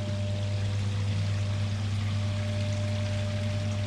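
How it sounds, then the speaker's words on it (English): Water steadily pours and streams into a freshwater aquarium being topped back up after a filter and de-chlorinator cartridge change, a constant near rushing wash over a low pump hum, with no talking. "Done my filters and it's topping the water back up."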